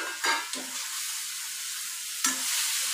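Cluster beans freshly picked from a home garden sauté lightly in a pan, giving a steady soft sizzle broken by a few scraping stirs of a spoon near the start and again toward the end.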